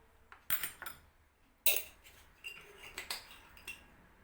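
A metal spoon clinks sharply against a dish or jar while measuring garlic powder and spices for Moroccan lentils, several distinct close taps and scrapes spaced irregularly with quiet gaps between.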